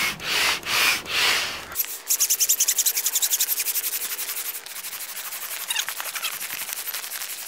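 Hand pump inflating an Ozone Wasp V2 5M wing on a windless day: after a few loud opening bursts, a steady run of rapid rhythmic pumping strokes with air hissing, close and alone.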